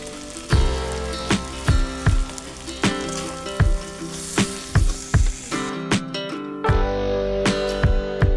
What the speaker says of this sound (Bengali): মাংসগুলো দিয়ে ভালো করে কষিয়ে নিতে হবে